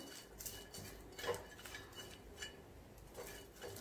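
Cut cluster beans dry-roasting over high heat in a pan, faint scraping and clinking stir strokes arriving every second or so over a soft background hiss, quiet and without talk.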